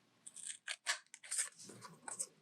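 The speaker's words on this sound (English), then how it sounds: "and just cut along that line." Scissors cut paper along a line in a quiet setting, a series of close, crisp snips and slicing rasps in quick irregular succession.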